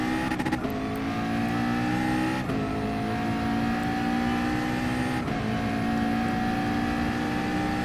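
A race car engine in GT Sport on the Dragon Trail Seaside circuit drones loudly and steadily, with three quick upshifts as it accelerates. Nobody talks.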